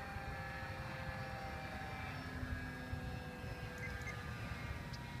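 A Warbler UAV model airplane cruises at about half throttle, its propeller giving a steady, thin droning hum at a distance, fairly faint and unbroken over a low outdoor rumble, with no talking.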